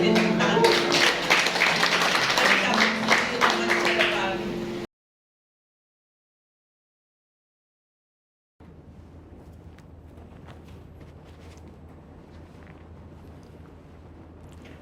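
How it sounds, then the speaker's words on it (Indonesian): Church congregation clapping for several seconds, a dense stream of many hands fairly close with voices mixed in, then the sound cuts to silence before faint room noise and quiet sounds return. "Beri tepuk tangan."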